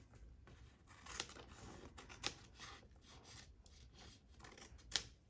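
Scissors trimming the ragged, torn edge off a sheet of 1800s paper at a craft table, heard as three sharp close snips spread over a few seconds amid faint paper rustling.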